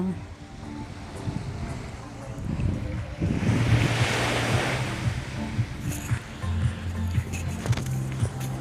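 Ocean waves washing onto Patong Beach, a broad rushing swell rising and fading, with wind noise on the microphone and faint voices in the background.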